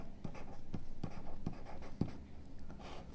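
Someone writes math on a board with quick, regular taps and scratches, about two per second. The sound is faint and close, with no talking.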